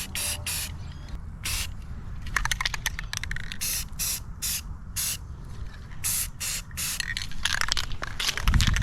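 Aerosol can spraying a light coat of paint onto rusty bolts during a Pontiac 350 engine refresh: repeated short hissing bursts, some quick and clustered, others longer, close and fairly loud over steady low background rumble.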